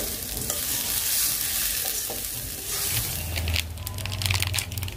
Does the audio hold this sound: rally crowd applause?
no